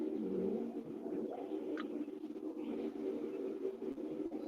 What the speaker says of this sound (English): Y'all hear the birds singing outside?